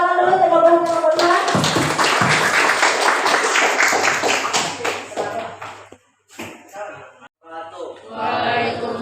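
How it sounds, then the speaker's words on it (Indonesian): Classroom applause for two student groups during a teaching session, a burst of clapping from many hands lasting several seconds before fading, with a teacher's voice before and after. "Kita beri tepuk tangan dulu untuk kelompok 1 dan kelompok 2."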